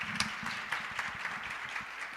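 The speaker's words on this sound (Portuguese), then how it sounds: "aplauda o Senhor" Church congregation applauding during a service, a steady wash of many hands clapping at moderate level with no speech over it.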